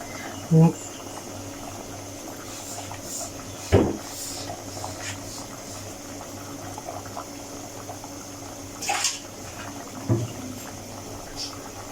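Aloo gosht broth simmers down in a pot with a steady, close bubbling hiss, broken by a few sharp knocks and clanks.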